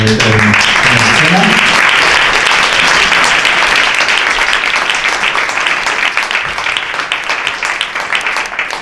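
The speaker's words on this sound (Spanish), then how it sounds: "Fortísimo aplauso para que" Loud, dense applause from a poetry reading audience in Madrid, continuous clapping that holds strong for several seconds and then slowly eases, with music audible briefly at the start.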